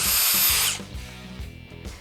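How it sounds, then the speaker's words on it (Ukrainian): A Bosch 18V-65 cordless drill runs at high speed in a loud, close whine for under a second, then spins down, leaving faint mechanical clicks and rattles. "свердління"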